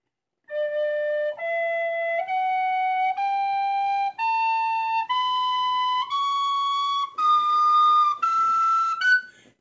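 An Irish tin whistle plays a slow rising scale with open fingering, each clear sustained note stepping up in turn, close and alone with no talking.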